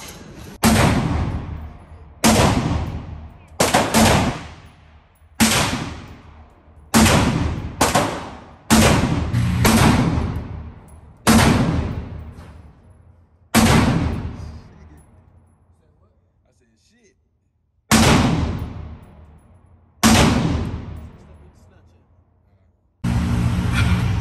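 Gunshots at an outdoor shooting range, loud sharp reports in an irregular series of about a dozen, each with a decaying tail and gaps between, one long pause near the end.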